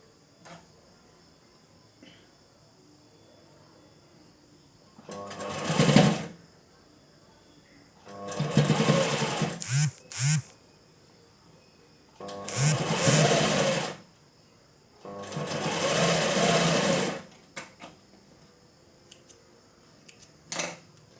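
Sewing machine stitching fabric for a dori bell design: four separate short runs of whirring motor noise, each a few seconds long, with quiet pauses between them and occasional soft clicks.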